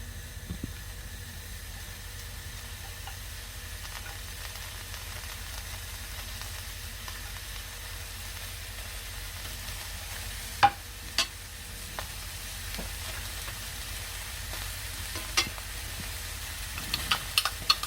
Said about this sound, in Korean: 냄비에 기름을 두르지 않고 바로 호박을 넣어주세요.